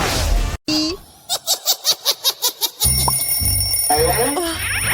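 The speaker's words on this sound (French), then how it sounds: "le réveil sonne, il est donc temps de se lever" An alarm clock rings in a home setting with a rapid series of about ten bright, even electronic beeps, loud and close, with louder noise and voices before and after.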